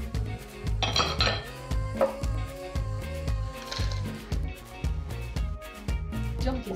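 Rendang ingredients being dry-roasted in a pan, a busy run of rhythmic scraping and clattering of a utensil against the pan with metallic clinks and a soft rustle of ingredients, close and continuous.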